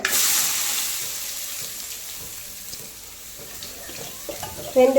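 Beetroot tipped into hot oil with popped mustard seeds for beetroot poriyal, a close hissing sizzle that fades a little, then a brief clatter near the end; no talk.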